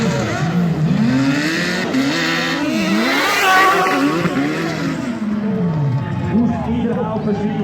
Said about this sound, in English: How about a Suzuki Hayabusa dirt drag bike?